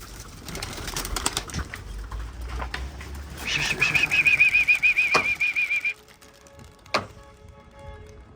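Pigeons in a loft bursting out as the door opens, a loud rapid flurry of flapping wings up close, with door knocks and clatter around it.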